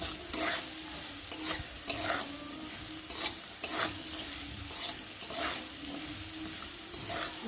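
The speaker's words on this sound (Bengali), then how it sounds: "দিয়ে ভালো করে একটু নাড়াচাড়া করে নেব" Turmeric being stirred into a sizzling mixture for spicy semolina in a pan, soft steady frying overlaid by repeated scraping strokes of a spoon roughly every second, close but fairly quiet, with no talk.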